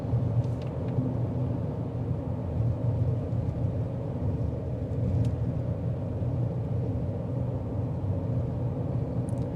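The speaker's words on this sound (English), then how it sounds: "As you get up to a higher speed, it does escalate the road noise in the interior." Road noise fills the cabin of a 2026 GMC Terrain AT4 at speed, a steady low rumble and tire roar with faint wind hiss, continuous and without talk.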